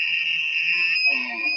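A human voice imitates a bull elk bugle, holding a high, steady whistle-like tone with a low guttural undertone that deepens in the second half, alone and fairly loud for under two seconds.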